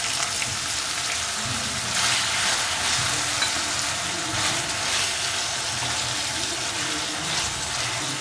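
Chilli bread mixed with vegetables and a little water sizzles steadily in a pan, a continuous close frying hiss with faint stirring.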